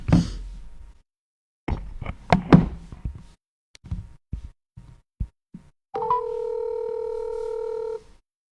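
Telephone line tone heard while a call is placed: after several knocks and clicks of handling and dialing, a steady multi-tone line signal sounds loud and continuous for about two seconds before cutting off.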